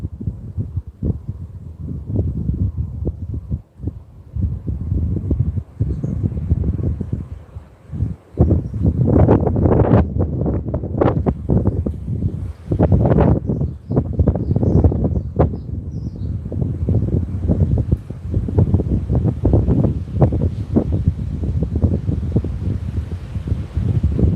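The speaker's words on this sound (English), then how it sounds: "Taking our cue from the sounds of the wind." Wind blows in strong, uneven gusts that buffet the microphone, with a low rumbling roar that rises and falls throughout.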